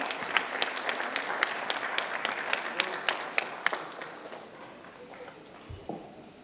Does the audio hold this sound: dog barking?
no